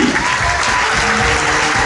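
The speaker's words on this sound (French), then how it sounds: "Et faites un tonnerre d'applaudissements pour Urbain Courty." A comedy festival audience in Montreux applauds loudly and steadily, a dense wash of clapping that fills the whole moment.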